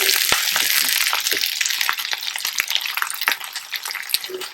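Garlic frying in a pan beside cauliflower steaks, a bright crackling sizzle with scattered pops and stirring clicks, close and loud, gradually thinning out.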